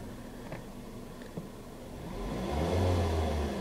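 A dark grey 2011 Ford Focus SE idles quietly with a couple of faint clicks, then the engine is revved, its hum rising and swelling in pitch and loudness before easing off.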